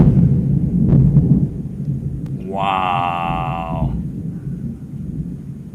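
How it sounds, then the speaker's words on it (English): Loud thunder booms and rumbles over a home in Clermont, Florida, a low, heavy roll filling the first seconds before a bright tonal sound cuts in briefly; a voice exclaims once. "That's like shaking the house thunder right there"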